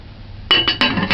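A metal lid is set onto a pot of boiling water for goat head soup, giving several quick clinks and rattles in close succession, up close and alone.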